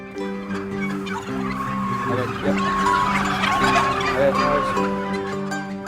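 A flock of farm turkeys in a polytunnel gobbles and clucks in a dense, overlapping chorus, fairly close, with no one speaking.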